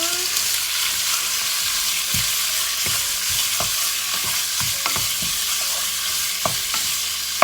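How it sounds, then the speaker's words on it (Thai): Pork belly stir-frying in a pan for a Thai mixed-vegetable soup, a steady close sizzle with intermittent scraping and stirring knocks throughout. "เอานี่ค่ะ หมูสามชั้นลงไปผัดเลยนะ"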